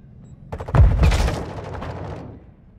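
Gunfire from the video game Call of Duty: Modern Warfare II, a sharp burst of rapid shots with booming low-end impacts that swells loud near the start and then trails off into a lingering rumble.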